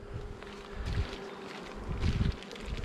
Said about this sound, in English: Now we have to put the rest of the bees inside here.